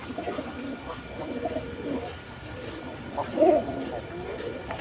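Pigeons coo softly amid a murmur of background noise, with one clearer, low coo rising briefly near the end.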